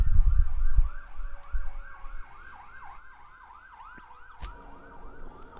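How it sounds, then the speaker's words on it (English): Emergency vehicle siren wailing outside in a repeating up-and-down cycle, distant and moderately faint, with a few low thumps and traffic rumble near the start. "can you hear all the sirens?"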